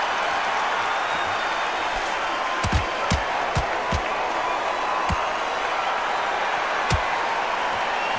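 A boxing arena crowd buzzes in the Claressa Shields Undisputed video game, a steady wash of murmur with scattered thuds and claps rising above it.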